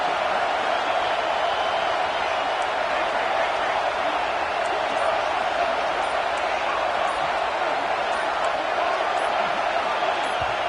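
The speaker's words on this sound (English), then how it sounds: "But how loud is it in this building? This is crazy. These fans are going absolutely nuts." A packed football stadium crowd roars without a break, a dense, loud wall of fan noise meant to rattle the opposing offense before the snap.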